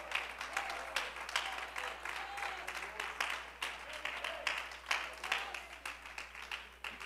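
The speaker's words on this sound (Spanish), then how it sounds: "Bríndele ese aplauso al Señor con gozo." A church congregation claps during a sermon, lively uneven applause with rhythmic surges, fairly faint, with voices calling out amid the clapping.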